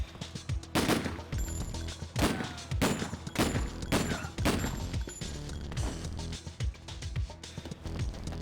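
Video game gunfire from a shooter on Xbox Series X: loud, repeated bursts of shots and automatic fire with sharp cracks and ringing tails, spaced irregularly, with little else behind them.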